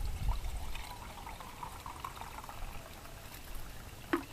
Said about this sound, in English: put the 2 cups of water